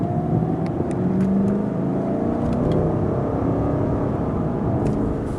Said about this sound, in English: Nice raspy engine sound.